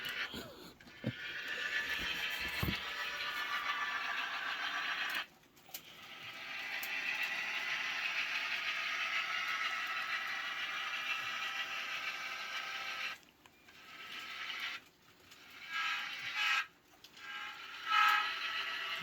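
A model railroad train runs steadily along its track on a home layout, giving a continuous motor whir and rail rumble with a few brief pauses and stutters.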